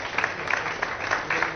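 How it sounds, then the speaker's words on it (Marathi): An audience at an awards event gives a short burst of applause, a few quick rounds of clapping heard fairly close. "जोरदार टाळ्या झाल्या पाहिजे."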